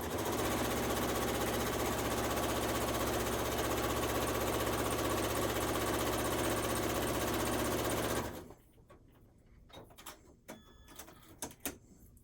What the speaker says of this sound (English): this time I'm only sewing on this little piece of red fabric, keeping it at the edge of the seam allowance